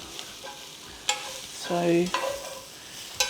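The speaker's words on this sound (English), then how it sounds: "I'm just breaking up the mushrooms while it's cooking." Mushrooms and chicken frying in a pan for Italian pollo e funghi, with the mushrooms being broken up as they cook. Soft sizzling sounds with a few sharp scraping stirs and one longer stroke against the pan, close by.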